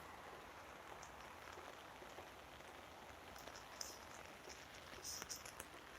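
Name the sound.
rain falling on a rainy day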